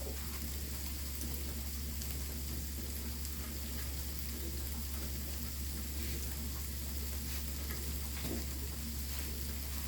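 Garlic and bacon fry in a pan for scrambled eggs, a steady even sizzle with faint crackles and a low constant hum underneath.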